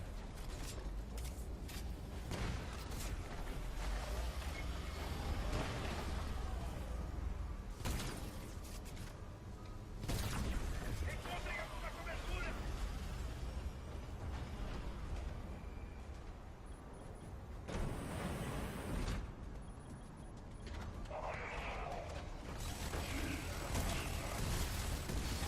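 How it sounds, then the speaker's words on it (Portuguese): Repeated bursts of gunfire and booming impacts in a shooting video game on the Volcano map, loud and dense throughout with brief lulls, plus a few sharp blasts. "Só mais uma sequência de tiros agora."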